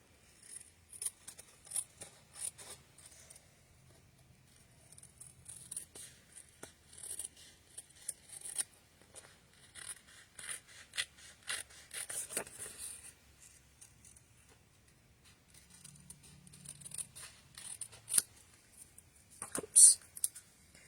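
Scissors trim paper for a handmade card, snipping close by in quick irregular runs of crisp cuts with brief pauses, ending in a few louder snips.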